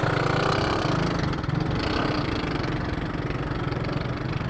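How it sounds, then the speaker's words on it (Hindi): Motorbike engine running steadily after being push-started by a man in a Karachi Afghan settlement, a continuous mid-low chugging idle that stays loud and close throughout, with no talk over it. "एक बंदा जो है वो पहले उसको धक्का दिया है, फिर वो जाके चली है उसकी बाइक"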